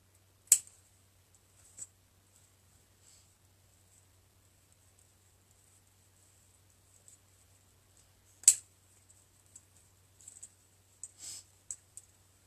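Scissors snip through holiday wreath material in a few sharp, close clicks, scattered between long quiet stretches, with a quick cluster of smaller snips near the end.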